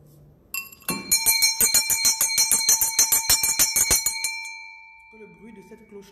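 A bell rung in a spiritual prayer setting gives a rapid series of about fifteen bright, evenly spaced metallic strikes. The strikes blend into a sustained ring that fades out, and a voice follows at the end.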